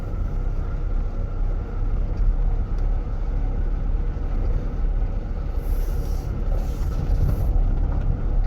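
A 1987 Fiat Ducato camper van engine idles with a low, steady rumble and slight unevenness, close by, with a faint high whine briefly toward the end.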